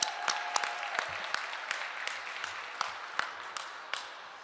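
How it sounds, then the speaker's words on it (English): A small audience at a Black Entrepreneurs Day gathering at the Capitol claps in a thin, scattered way, with separate sharp hand claps standing out as the applause tapers off. "Give yourself a round of applause"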